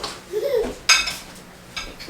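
Dishes and cutlery clinking at an Appalachian family supper table, with a few sharp clinks of plates and silverware over quiet room noise.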